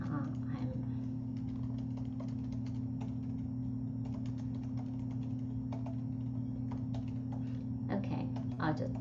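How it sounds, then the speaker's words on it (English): Fingers typing on a computer keyboard, with scattered key clicks in short irregular bursts over a constant low electrical hum; fairly close but quiet, with no clear talk over it. "you can start typing"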